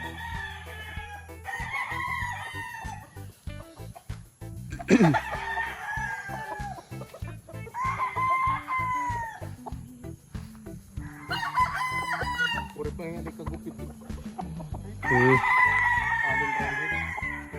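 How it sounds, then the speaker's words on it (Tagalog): Gamefowl roosters, including a Roundhead broodcock, crow repeatedly in a farm yard, with several long loud crows overlapping soft clucking and background farm noise. "Allen Roundhead yung broodcock, tapos yung inahin naman Larry Romero."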